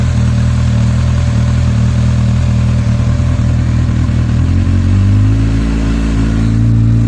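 A Honda XJ650 motorcycle engine idles at a steady throttle, close and loud, a continuous low mechanical drone with a slight shift in tone near the end.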